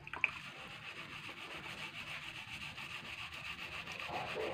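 A red banana is rubbed and washed in a soap dish, giving soft, continuous scrubbing and rubbing noises with faint wet touches, close by and fairly quiet.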